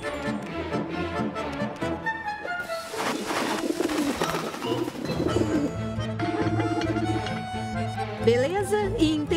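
Pigeons coo on a rooftop in the Ratatouille game Rush: A Disney Pixar Adventure, blended into busy game music with a steady soft ticking underneath.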